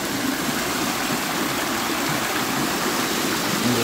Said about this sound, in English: That's the river, right here.